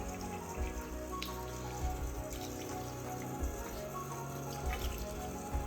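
Water poured over a baby's wet hair in a bath, a steady close trickle and splash running continuously without pause and with no talking.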